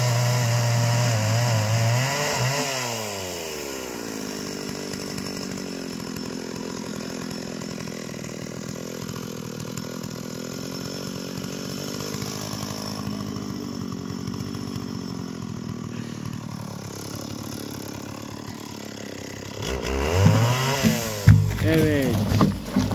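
A chainsaw cuts through a tree log with a sustained, droning buzz. Its pitch rises and falls as the saw revs and bites, and it ends in a louder burst of revving. Voices are faintly present.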